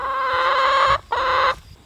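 Chickens in a backyard homestead run give two loud, harmonic clucking calls up close, a long squawk followed by a shorter one after a brief pause, with no talking.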